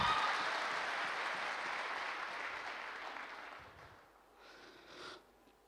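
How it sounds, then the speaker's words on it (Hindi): A crowd at a talk in Darbhanga gives a burst of hand clapping. It starts full and steady, fades out around the fourth second, and a short voice is heard near the end. "अरे ताली होनी चाहिए"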